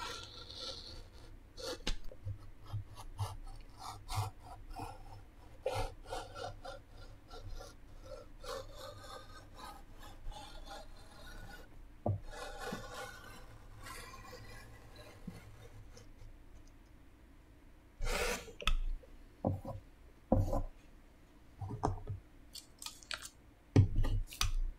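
Scissors cut through fabric in quiet, close bursts of rasping snips and rubbing, pausing now and then before quickening into louder cuts toward the end.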